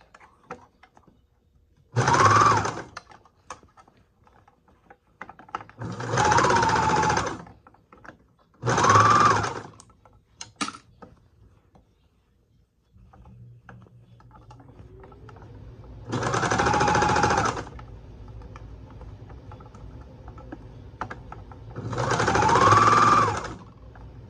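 Sewing machine stitching a stretched sock in several separate bursts of fast mechanical whirring, each a second or two long, with quiet pauses and handling noise between them and no talk.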